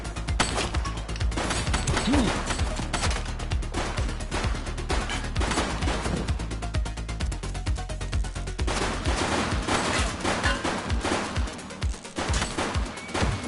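Rapid bursts of gunfire in The Precinct, a police video game, sound loud and dense, with repeated shots cracking over a continuous mechanical background for the whole stretch.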